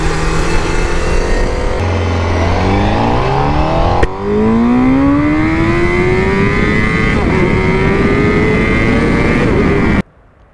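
A Honda CBR1000RR-R Fireblade SP superbike revs loudly and close, its engine note climbing steadily through several rising sweeps before cutting off abruptly near the end.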